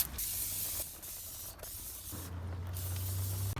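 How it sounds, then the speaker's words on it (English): Several hissing bursts from an aerosol can of brake parts cleaner sprayed onto a greasy Jeep Rubicon engine block, close by, with short pauses between squirts and a longer steady spray at the end. "I just picked up some brake parts cleaner. And go ahead and spray it down"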